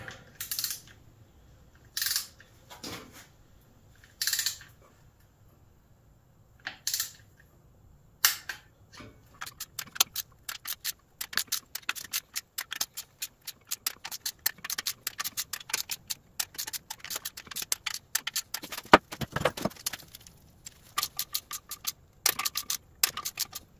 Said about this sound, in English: So now we're going to torque down all our bolts.